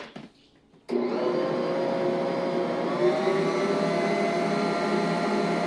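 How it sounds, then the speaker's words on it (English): Angel wings cake batter being whisked: a steady, loud whirring drone starts abruptly after about a second of near-quiet and holds evenly to the end, with no voices. "And then we're going to whisk this all together and hopefully it looks good."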